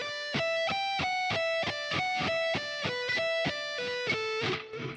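Distorted electric guitar plays a fast lead-in lick of sixteenth notes, an even run of about twenty bright picked notes that ends in a ringing final note, alone and up close.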